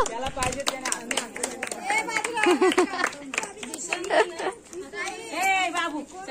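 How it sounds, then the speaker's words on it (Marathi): Hand clapping from a group of children and adults at a birthday dance in a building, quick uneven claps mixed with lively chatter and a voice calling out over them. "ए टाळ्या वाजवा"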